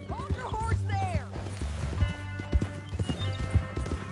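Horse hooves clip-clop in a quick, steady rhythm in Red Dead Redemption, close and clear, with a horse whinnying briefly near the start.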